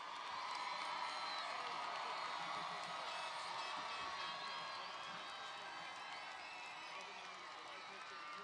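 Graduation crowd of high school families applauding and cheering at the class of 2018 ceremony, a dense, steady wash of clapping, whoops and shouts that holds loud throughout.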